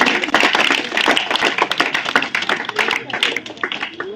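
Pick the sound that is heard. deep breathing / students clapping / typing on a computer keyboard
students clapping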